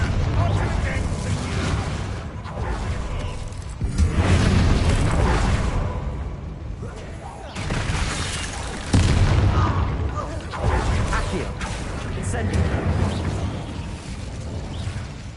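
Fiery spell blasts from Incendio in Hogwarts Legacy burst out in several loud booming explosions, spaced a few seconds apart over a dense rumbling battle din.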